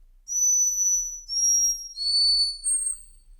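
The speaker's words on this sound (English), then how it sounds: "Then you've got an annoying whistle." A shrill, high-pitched whistle blown in four sharp blasts with short gaps, loud and close, with no other sound around it.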